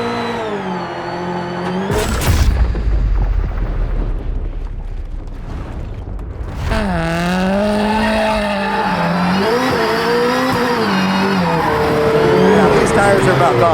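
A rally driver's 862bhp Subaru Huckster driven hard, its engine roaring and revving with shifting pitch, a burst of loud crackle and tyre noise, while a person talks over it.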